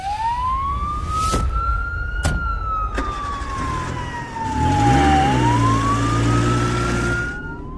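An ambulance siren wails loud and close, its pitch sweeping slowly up and down in a continuous cycle over a low traffic rumble, with no voices.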